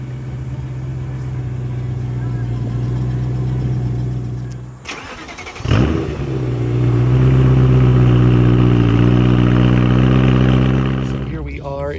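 A BMW V8 M3 fitted with a performance exhaust idles with a deep steady burble, cuts off briefly, then restarts and settles back into a loud close rumble before a light rev; a person speaks over part of it.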